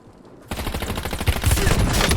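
Rapid automatic gunfire from the battle royale game Warzone begins abruptly after a quiet moment, then continues as loud, dense bursts of closely spaced shots.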